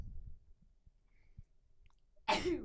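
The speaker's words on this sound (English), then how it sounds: "Felt that sneeze coming from a mile away." A single close, sharp sneeze bursts out near the end after a quiet stretch with faint clicks and breaths.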